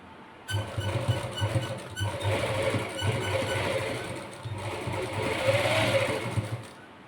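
An electric sewing machine stitches lace onto fabric in quick, whirring bursts, running in short stretches with brief pauses, close and moderately loud.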